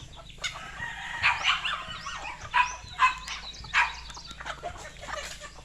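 Chickens cluck in a yard while a rooster gives several close, loud crowing calls in a rising and falling rhythm, with low background noise under them.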